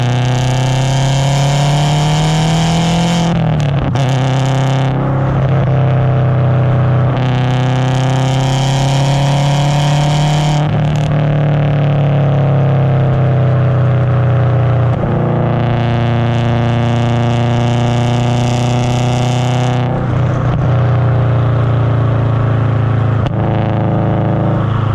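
A turbocharged car, a built Subaru WRX, pulls hard through several gears from inside the cabin. The engine note climbs in long rising sweeps, dips at each shift, and stays loud and close throughout.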